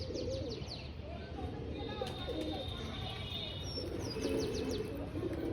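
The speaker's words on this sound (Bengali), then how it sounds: "পায়রা নামছে এখন" A pigeon lands on a tin roof and coos softly, with scattered chirps from other birds in the background, moderately faint over low ambient noise.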